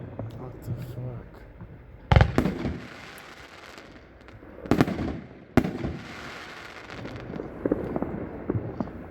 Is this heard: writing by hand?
no